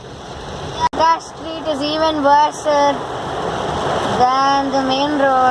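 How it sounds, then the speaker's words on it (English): Heavy rainwater splashes along a flooded city street, a steady broadband wash with passing vehicle swooshes, while someone talks over it throughout. "Oh, just look at that amount of water splashing by."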